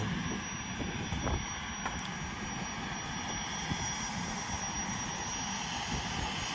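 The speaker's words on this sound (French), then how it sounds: "Ça, c'est l'avion de ligne" A steady, distant roar of an airliner's engines droning overhead near Payerne, continuous and fairly faint with no talking.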